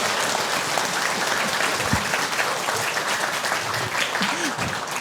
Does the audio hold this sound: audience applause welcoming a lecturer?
yes